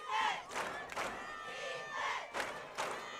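A loud high school football crowd at Imperial, Tigers against Holtville Vikings, cheers in rhythmic pulses of shouting and chanting, with brief dips between each burst.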